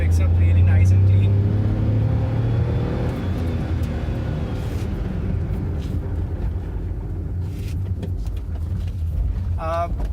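A Hyundai Eon small car engine pulls steadily in second gear, a continuous low droning hum with rising harmonics that stays loud and close throughout.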